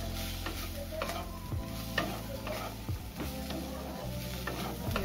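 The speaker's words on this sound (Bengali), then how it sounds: "এই অবস্থাতে আমি দিয়ে দেবো ডিম, বাঁধাকপি আর আলুটা যে ভেজে রেখেছিলাম সেটা দিয়ে দিচ্ছি। এবার দেখো খুব ভালো করে নেড়ে নিচ্ছি।" Egg, cabbage and fried potato are stirred together in a pan for spicy street-style Maggi masala, with steady sizzling under repeated scraping strokes of a spatula, close and fairly quiet, with no talking.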